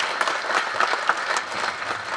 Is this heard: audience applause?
yes